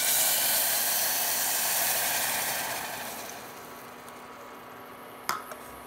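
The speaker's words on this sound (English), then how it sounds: "Now you are going to add 1 cup of milk." A cup of milk poured into a hot pan of browned vermicelli sets off a loud steaming hiss that slowly fades, with a sharp clink near the end.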